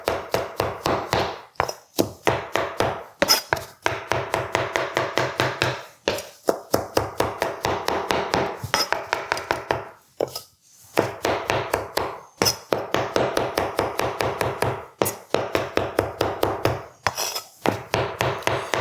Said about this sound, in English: Just gonna chop this up.